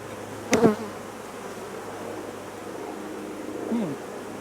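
Honeybees drone around an open hive during brood removal, a constant close buzz with a sharp bump early on and a brief louder bee passing near the end.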